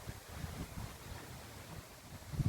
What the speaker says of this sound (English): Is little bit windy